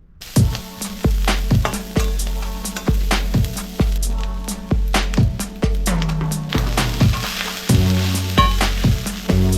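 Rice fries with capsicum, chopped garlic, chili and curry leaves in a loud close pan, the sizzle punctuated by sharp repeated clanks of a spatula tossing and scraping, with no talking.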